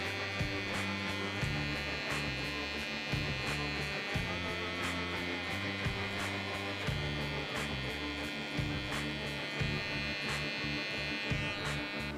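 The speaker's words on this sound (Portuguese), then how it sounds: "com a máquina de contorno, eu vou marcar bem" An electric contour hair clipper buzzes steadily and close while outlining a French crop haircut, a continuous motor whine with slight pulses as it passes over hair.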